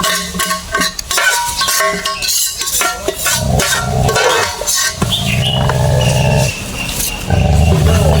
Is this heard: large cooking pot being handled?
yes